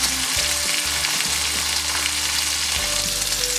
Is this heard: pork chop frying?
yes